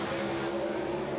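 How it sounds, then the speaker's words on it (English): Drag racing cars at the 1984 NHRA U.S. Nationals in Indianapolis, including Bob Glidden's Ford, roar in a loud sustained engine drone with a steady pitch, without any voices. "Together they leave the starting line."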